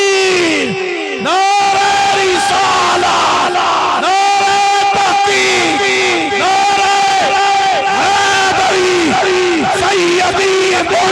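A large gathering answers a takbir call at a religious gathering, many voices chanting together in loud, rhythmic bursts that rise and fall over about eleven seconds, with harmonic shouts sustained across the crowd.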